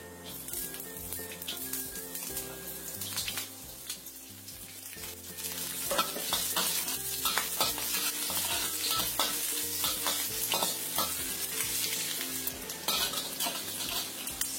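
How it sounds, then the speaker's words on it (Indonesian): Shallots sizzle steadily in about two tablespoons of hot oil while a utensil scrapes and stirs the pan in repeated strokes, with light clinks throughout, while cooking Javanese fried rice vermicelli. "Goreng dulu bawang merahnya."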